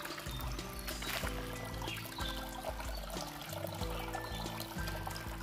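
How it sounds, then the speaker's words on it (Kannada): Water seeping from a forest pond trickles and gurgles into a small channel, a steady, close, liquid babble with irregular splashy bubbling and no talk. "ಇದು ಮುಂದೆ ಹರಿದು ಹೋಗ್ತಾ ಇದೆ ಕಣಿಯಲ್ಲಿ"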